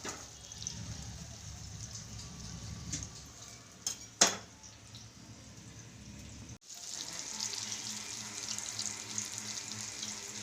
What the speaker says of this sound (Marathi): इकडं कटला आता फ्राय करायला घेतलेला आहे